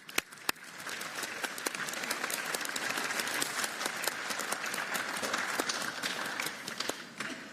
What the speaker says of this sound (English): So we will give her a round of applause to get a bit of a start.